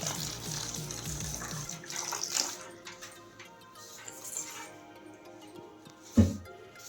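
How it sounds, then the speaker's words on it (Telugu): Water poured into murukku dough with a mix of flour and oil, a trickling pour early on followed by quiet mixing and a sharp knock near the end, no talk. "వాటర్ పోసి కలుపుకోవాలి"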